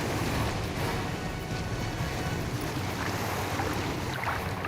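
A motor boat travels on the open sea, its steady engine rumble blending with rushing water and wind noise that hold at an even, fairly loud level throughout.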